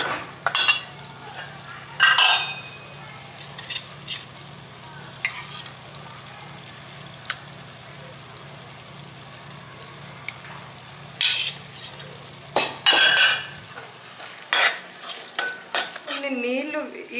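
A spoon scrapes and knocks against a pan while chickpea gravy fries, giving a low steady sizzle broken by irregular metallic clinks and stirring bursts, louder toward the end.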